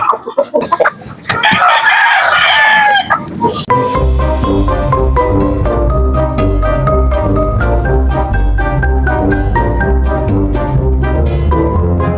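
Young Aseel chickens clucking in a farm yard, with a rooster crowing loudly and repeatedly up close; a voice speaks briefly at the start before the birds take over.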